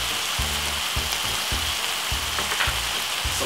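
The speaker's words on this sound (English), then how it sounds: "you're getting the meats brown off" Ground meat browns in a pan for lasagna, a close crackling sizzle with repeated rhythmic bursts and scrapes from stirring, no talking.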